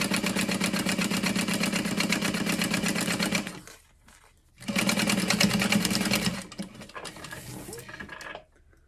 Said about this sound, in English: So we're just going to sew across.